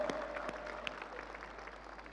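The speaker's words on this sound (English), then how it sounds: "Big applause for the international guests, everybody." Applause from an event audience for international guests at a global grand opening, a soft, steady wash of clapping over two seconds, somewhat distant and low in level.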